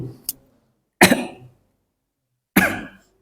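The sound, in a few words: coughing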